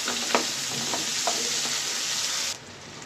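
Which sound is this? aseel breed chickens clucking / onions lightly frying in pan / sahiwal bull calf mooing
onions lightly frying in pan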